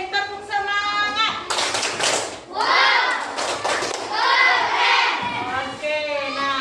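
A group of children clap and chant a classroom spirit cheer together in a quick rhythmic pattern, their voices and claps rising and falling in bursts, close by in a room.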